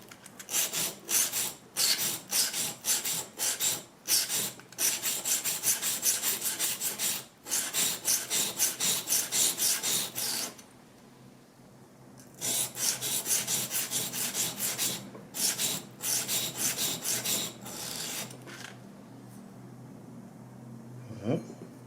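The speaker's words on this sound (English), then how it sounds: "Same hand, and you sharpen it like this." Steady rasping strokes of a blade being hand-sharpened on a stone or file, l'indispensable knife, in regular bursts with short pauses, close and fairly loud, then brief quieter stretches.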